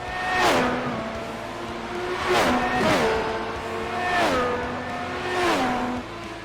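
F1 race car engine in the iRacing simulator at Silverstone, loud and close, repeatedly revving up through the gears with sharp upshifts and shifting pitch, no talk.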